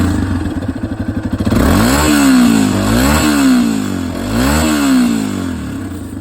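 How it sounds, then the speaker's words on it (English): A Yamaha XT250 motorcycle engine idles with a choppy putter through the exhaust, then revs up in several rising and falling swells, loud and close. "I'm gonna turn on the exhaust real quick so you guys can listen to it."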